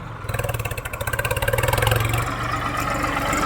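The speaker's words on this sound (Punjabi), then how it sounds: "ਤੀਏ ਹਾਈ ਚ ਦੇਖਦੇ ਆ 1000 rpm ਤੀਏ ਹਾਈ ਚ ਕਿਹੜਾ ਦਾ ਕਿੰਨਾ ਤੋਰਾ ਹੈ ਟਰੈਕਟਰ ਦਾ" A tractor engine runs in third high gear at about 1000 rpm, giving a steady, pulsing mechanical throb that grows slightly louder and fuller, close and continuous with no talk.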